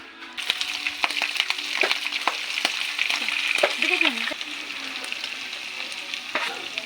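Batter-coated chicken intestines (isaw) deep-fry in hot oil with a steady, dense crackling sizzle and scattered sharp pops, close and continuous, with no voices.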